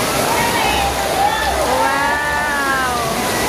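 Water in a swimming pool with a wave machine surging in a continuous broad wash, with excited voices and shouting riding over the steady roar.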